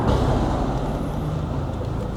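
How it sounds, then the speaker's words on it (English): A car engine is floored and pulls under full throttle, a steady loud drone of engine and road noise heard from inside the cabin with no voices. "I'm gonna floor it just for a little bit."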